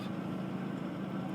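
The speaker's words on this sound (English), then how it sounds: "Gas idling." A gas engine idles nearby in a steady, even low rumble with no change in pitch over the brief stretch.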